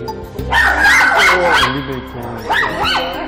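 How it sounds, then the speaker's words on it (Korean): A small dog barks and yips sharply inside an elevator, several close, loud bursts in quick succession while reacting to another dog. "엘리베이터에서 다른 강아지만 만나면 예민하게 반응하는 테리 때문이었는데요"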